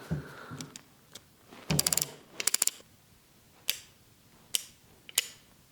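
Sharp metallic clicks and ratcheting come from a Heritage Rough Rider .22LR single-action revolver as its mechanism is worked: a cluster of rapid clicks, then separate single snaps spaced about a second apart, close-up and crisp in a quiet room.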